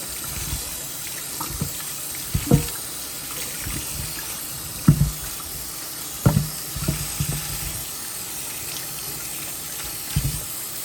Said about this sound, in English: So I'm going to wash these potatoes and peel them.